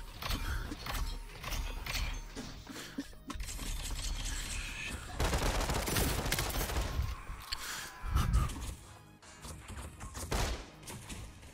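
Gunfire in the VR shooter Population: One, bursts of rapid shots and scattered single cracks at moderate level, mixed with clattering game mechanisms and faint speech.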